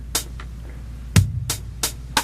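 A small drum machine plays eighth-note triplets for a jazz rhythm lesson, crisp clicking hits grouped in threes with a deeper bass-drum thump on the beat, close and clear against quiet hum.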